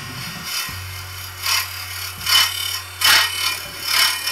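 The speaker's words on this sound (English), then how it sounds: "I'm doing some refining cuts, trying to smooth out the inside edge to make a nice smooth transition on the interior walls of this small vase hollow form vessel." A wood lathe spins a small segmented vase hollow form while a hollowing system tool makes refining cuts on the interior walls, a low steady motor hum beneath rhythmic bursts of scraping as the cutter passes.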